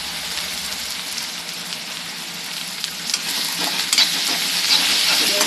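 Chopped onion frying in oil with a pinch of asafoetida (hing) for khichadi, a loud, close, continuous sizzle with occasional clicks and scrapes of stirring growing busier toward the end, no voices.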